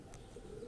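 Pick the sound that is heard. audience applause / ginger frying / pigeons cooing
pigeons cooing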